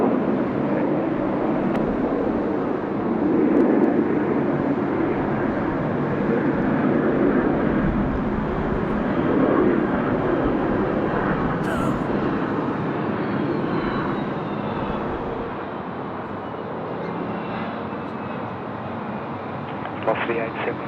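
An airliner rolls for takeoff on runway 16 right at Sydney Airport, its engines a broad, steady roar that gradually eases as the aircraft pulls away, with a radio voice heard over it.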